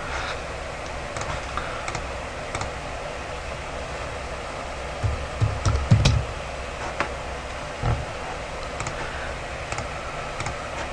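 Numbers typed on a computer keyboard while drawing an alloy wheel in CAD software, with scattered clicks and short bursts of keystrokes, close and moderately loud over a quiet room.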